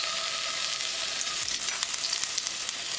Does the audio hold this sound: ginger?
yes